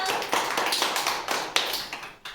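Children and a teacher clap hands together during a counting and flower-name game, a steady run of quick, close, bright claps at an even rhythm with no talking.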